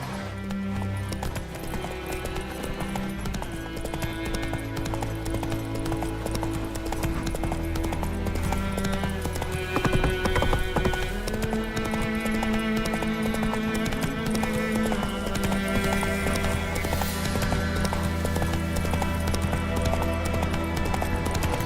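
Horse hooves clip-clop at a gallop in The Witcher 3, steady rhythmic beats under continuous game music and ambience.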